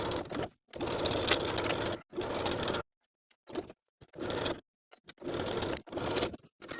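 A sewing machine stitches a wide-leg pants waistband, pivoting along the bottom extension, in four or five steady motor runs of about a second each, separated by short pauses and one longer gap, close and clear with no talk.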